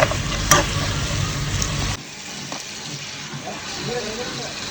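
Sliced onions with salt mixed and fried in a kadai with curry leaves, loud sizzling at first and then a softer hiss with occasional scrapes of a spoon; a voice is faintly present.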